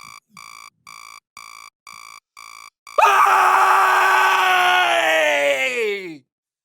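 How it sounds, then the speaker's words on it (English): A person lets out a long, loud scream on waking in the morning, lasting about three seconds right after a run of evenly spaced electronic alarm beeps. "when I wake up in the morning, I have a habit of screaming before I do anything else"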